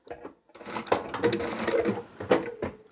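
A sewing machine backstitches a seam on a large boho-style knitting bag, giving a close, rapid mechanical clatter in short bursts with brief pauses between them.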